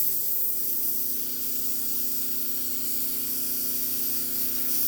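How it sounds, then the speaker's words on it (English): An airbrush sprays Tamiya Flat Yellow paint in a steady, hissing burst that holds evenly for several seconds, close and fairly loud, with no talking. "Let's do our spray test."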